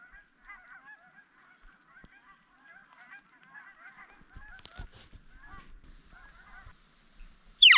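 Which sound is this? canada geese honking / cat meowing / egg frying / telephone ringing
canada geese honking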